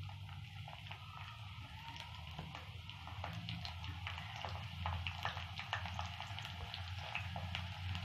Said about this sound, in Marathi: आता तेल तापलं की आपल्याला ही लसूण टाकून घ्यायची.